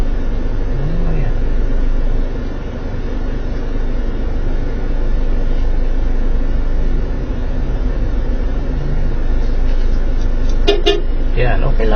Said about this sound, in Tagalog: Yan ang ibig sabihin ng busina ko.